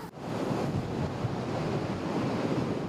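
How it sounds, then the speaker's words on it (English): Huge ocean waves crash against coastal rocks in a nor'easter storm on the South Shore of Cape Cod, the surf a dense, continuous roar from close by with strong wind buffeting the microphone throughout. "The sound is just breathtaking with the rocks and the wind."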